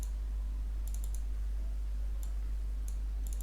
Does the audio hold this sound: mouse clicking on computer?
yes